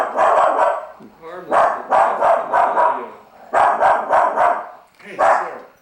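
A small dog barks loudly and close by in repeated bursts of sharp yaps, with brief pauses between the volleys.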